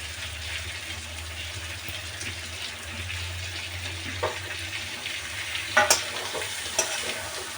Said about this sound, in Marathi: गॅसवर मसाला आणि कारली सगळे एकदा छान परतून घ्यायचे